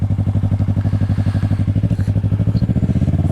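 A 2020 Yamaha R3 with an M4 exhaust rides along with a steady, loud, throbbing engine note that pulses rapidly and holds a constant pace throughout, with no talk.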